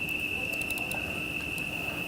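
Crickets chirp in a steady, continuous high-pitched trill at moderate distance, set over a faint background hiss with no voices.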